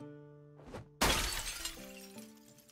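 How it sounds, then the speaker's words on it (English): A window pane is smashed in the Project Zomboid video game, a single sharp crash of shattering glass that trails into a tinkling decay over steady game music tones. "Am I gonna have to really smash this window?"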